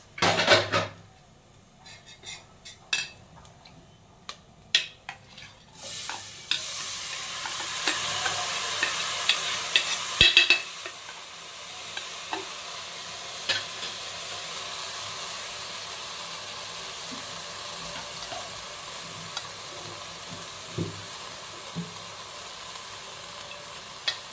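Rice tipped into a pan of vegetables with bay leaves over a lowered flame, then stirred: scraping spoon strokes and clinks over a loud, steady sizzle that swells after the rice goes in and stays busy throughout.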